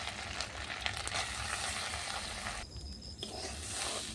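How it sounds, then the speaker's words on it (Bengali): Soaked Gobindobhog rice fries in a pan over a clay stove, a continuous loud sizzle with brief scraping stirs and a short dip midway before the hiss resumes. "চালটাকে বন্ধুরা ভালো করে ভেজে নেবেন"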